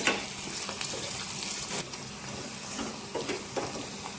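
Turmeric tempering for majjiga charu fries and is stirred in a pan, a steady close sizzle with scraping stir strokes and a few brief louder bursts, no voices.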